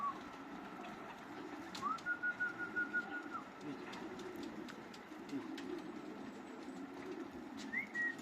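Racing pigeons at a Polish club race for young birds, with soft cooing and bird calls at a moderate distance over a steady outdoor background, punctuated by a few brief whistle-like tones.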